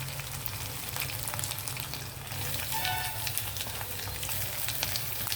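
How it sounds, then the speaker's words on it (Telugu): Onions and curry leaves fry in a pan with dried shrimp, giving a continuous crackling sizzle with small pops that grows slightly louder midway. "ఇప్పుడు మనం ఉల్లిపాయలు వేసేద్దాం."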